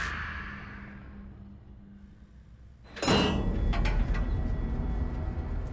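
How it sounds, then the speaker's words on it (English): Elevator doors in an empty building slide open with a sudden mechanical whoosh and clatter partway through, after a quiet stretch of fading hum, then a steady rumbling motion noise carries on to the end. "The elevator doors slowly opened."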